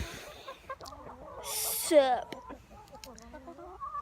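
Chickens on a farm cluck and squawk close by, one giving a loud flurried squawk as it is caught, with someone talking over the birds.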